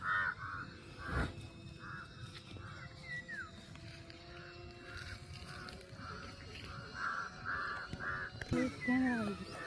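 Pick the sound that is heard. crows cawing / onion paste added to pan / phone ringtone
crows cawing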